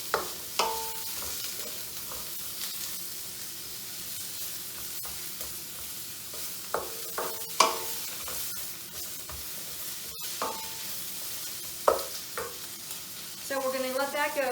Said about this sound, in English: add to the flavor of the sauteing of the onions and the peppers